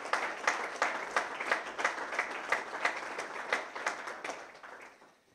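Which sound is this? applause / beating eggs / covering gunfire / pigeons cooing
applause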